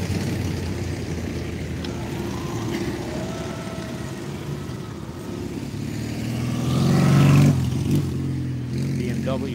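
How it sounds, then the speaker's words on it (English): A BMW sidecar motorcycle and an Italian tractor at a military vehicle show run their engines steadily nearby, with a low rumbling drone that swells briefly to a louder rev near the end, while people talk over the noise. "BMW sidecar and an Italian tractor."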